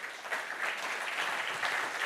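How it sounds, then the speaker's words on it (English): Audience applause after a talk at a conference on the future of food, a steady, fairly soft wash of many hands clapping with no speech over it. "Yes, another round of applause"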